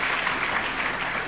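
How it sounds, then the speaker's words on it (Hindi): Audience applause at a devotional discourse, a steady, moderately soft patter of many hands clapping together without pause, briefly and alone. "अरे ताली तो ठीक से बजाइए।"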